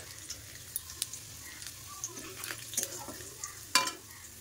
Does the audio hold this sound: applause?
no